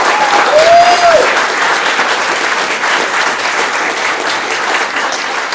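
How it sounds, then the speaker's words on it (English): A showcase audience gives a big round of applause for a team, a dense steady wash of clapping that stays loud throughout, with a brief whistle near the start. "A huge round of applause for this team."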